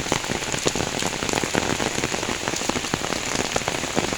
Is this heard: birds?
no